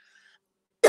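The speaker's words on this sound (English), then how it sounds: "A dog and now a cough." A single short cough bursts out abruptly near the end, close and sharp, after a faint high tone fades away.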